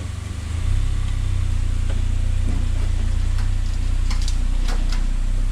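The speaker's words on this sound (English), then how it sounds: "Now we move the vehicle to place the rear wheels on the weighbridge." A vehicle's engine runs low and steady at close range as it creeps forward to set its rear wheels on a weighbridge scale, with a few faint ticks and knocks over the continuous rumble.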